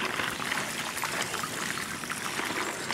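A bicycle rolls through water covering a trail, with a steady close-up rush and splash of churned water lasting throughout and no talking.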